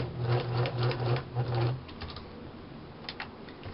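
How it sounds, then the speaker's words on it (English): A sewing machine stitches along the side of a fabric bag, its motor running in several quick bursts before easing off, fairly close and alone with no talking. "Okay, so I've sewn one side. I've sewn this side."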